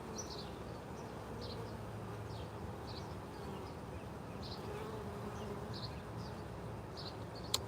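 Honey bees hum steadily at a hive, a dense continuous drone with faint individual buzzes rising in and out close to the microphone.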